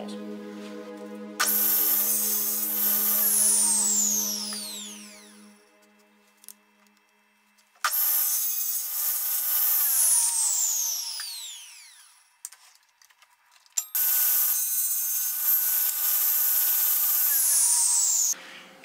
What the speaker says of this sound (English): I'm just drilling the holes.